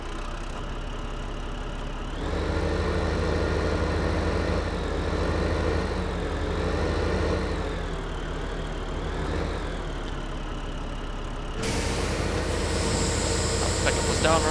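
Steady engine drone from a tractor in the Farming Simulator 15 video game, running continuously with a shift in pitch partway through and a brighter change near the end.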